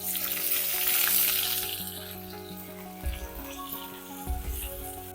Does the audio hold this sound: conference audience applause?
no